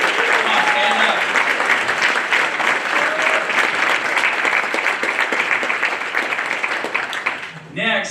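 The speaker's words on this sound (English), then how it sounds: "big round of applause for the Louisiana Department of Education staff" Awards-ceremony audience at the 2025 Louisiana Students of the Year event giving sustained, loud applause for state education staff, a dense wash of clapping that dips briefly before a voice cuts in at the end.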